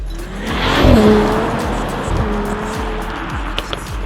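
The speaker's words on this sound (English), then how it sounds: "an exhaust note that sounds like Thor is clearing his throat" Mercedes-AMG CLE 53 Coupé exhaust, a loud, close rasping engine note that swells and falls over a few seconds, with a brief tire-squeal-like tone near the start.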